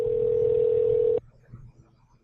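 A telephone call to a national laboratory's general line, where one steady, loud ringback tone holds for about a second before cutting off, followed by faint line noise.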